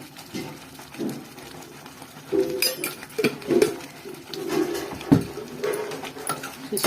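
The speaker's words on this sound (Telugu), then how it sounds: "దీన్ని బాగా కలుపుకోవాలి అడుగంటకుండా" A spoon stirs a chilli masala curry made with bajji mirchi in a pan, giving close, irregular metallic scrapes and clinks against the pan over a soft background.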